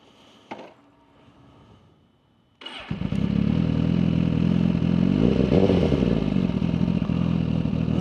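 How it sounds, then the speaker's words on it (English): A Suzuki GSX-R1000R motorcycle engine cranks briefly and catches, then settles into a loud, steady, rumbling idle close by after a few quiet clicks. "let's go ahead and start up the bike, and I'll go ahead and start rolling here."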